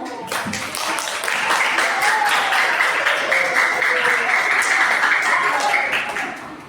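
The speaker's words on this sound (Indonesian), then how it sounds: "Tepuk tangan dulu." Students in a classroom break into sustained applause, a dense wash of clapping that holds steady for several seconds before easing off, with some voices mixed in.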